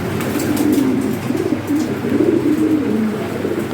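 European racer and Lahori pigeons in a loft give soft, repeated throaty coos close by, rolling in a steady rhythm over a faint background hum.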